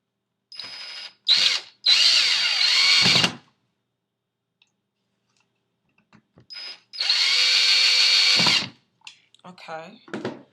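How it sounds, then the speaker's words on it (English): A power drill pre-drills holes in a wooden soap mold, whining in several short bursts and two longer runs, close and loud, separated by quiet pauses with small handling clatter. "you will pre-drill some holes here"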